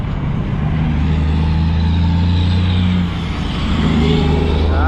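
Heavy truck on a Montreal highway service road in Lachine rumbling past close by, loud and steady, its low engine drone shifting in pitch as it changes gears, with no talking.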